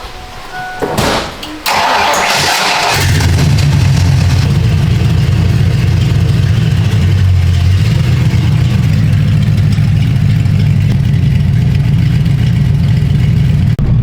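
A car engine cranks and catches after a couple of clicks and rattles, then settles into a loud, steady idle that rumbles close by for the rest of the clip as the car is about to set off.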